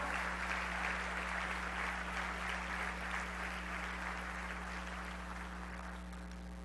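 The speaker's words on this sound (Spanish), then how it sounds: "Dele un aplauso a nuestro Dios" Church congregation clapping in praise, a steady wash of many hands held over a strong low electrical hum, fading slightly toward the end.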